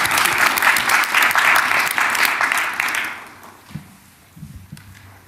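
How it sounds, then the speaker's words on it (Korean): An audience at a government economic strategy meeting applauds with a full burst of clapping that holds for about three seconds, then fades quickly to quiet room noise with a few soft knocks. "박수 한번 칠까요?"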